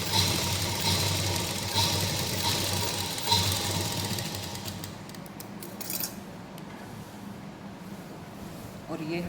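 Sewing machine running a straight line of stitching over salwar pleats, a steady mechanical whir that is loud at first and then fades to quieter handling noise toward the end.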